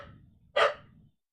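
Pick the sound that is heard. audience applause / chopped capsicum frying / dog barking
dog barking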